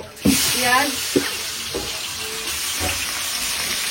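Sliced onion dropped into hot oil already crackling with cumin and dried chilli for onion masoor dal, a loud burst of sizzling that settles into a steady fry with a few utensil knocks, and people talking over it.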